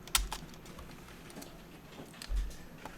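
Quiet typing on a computer keyboard, a few isolated close key presses, a Ctrl+Enter shortcut, spaced across a near-silent background with no speech.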